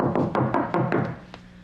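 Knocking on a door: about five firm, evenly spaced raps close by, heavy and woody, followed by a quieter single knock, no voices.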